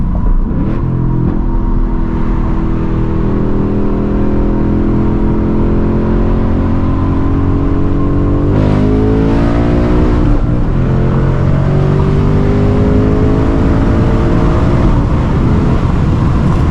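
An S650 Mustang GT pulls hard under full throttle, its engine note climbing steadily through the gears with quick no-lift shifts; a loud, continuous, near roar with rising harmonic sweeps and no talking.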